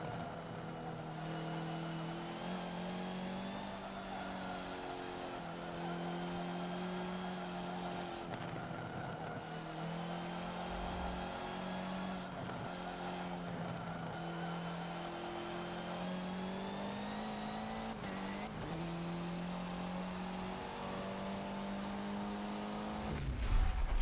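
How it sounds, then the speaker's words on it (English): A rally car engine in Forza Motorsport 7 drones at high, steady revs for the whole stretch, pitch dipping briefly at gear changes before swelling again at the end. "I am driving a car that I've barely driven on a track that I don't think I've been on before"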